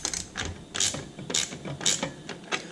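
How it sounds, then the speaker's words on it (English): Ratchet tightening an exhaust bolt on a Royal Enfield Interceptor fitted with S&S slip-on exhausts: a steady series of short, crisp clicking strokes, about five pulls in quick rhythm, close and clear with no talking. "I put my box wrench on the back, ratchet on the front, and just go ahead and do one of these numbers. You'll notice it tightening up nicely."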